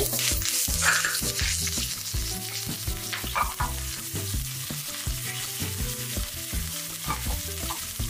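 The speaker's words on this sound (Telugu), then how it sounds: "కరివేపాకు వేసి చూసారండి, చిప్పట్లాడుతూ ఉంటుంది" Curry leaves, cumin and dried red chilli crackling in hot oil as a tempering for uttapam chutney, a dense close sizzle with sharp pops and spits running continuously throughout, no voices.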